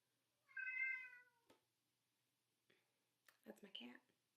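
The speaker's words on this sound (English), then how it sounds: "That's my cat." A house cat lets out one clear, drawn-out meow close by, followed after a pause by a brief, soft human voice.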